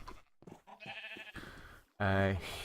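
A sheep in Minecraft gives a short, loud bleat near the end, after a stretch of softer game sounds and someone talking.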